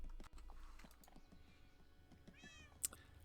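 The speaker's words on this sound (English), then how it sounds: "The cats sleep with you now as well." A cat meows in Minecraft, a couple of short, faint mews near the end over quiet clicking and tapping, with no talking.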